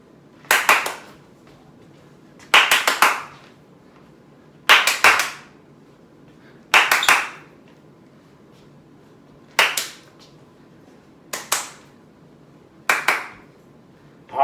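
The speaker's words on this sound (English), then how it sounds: "How many times can you clap between throwing it and" Sharp, close hand claps in short bursts of two or three, repeated roughly every two seconds with brief silences between, made while a bean bag is tossed and caught during a home PE activity.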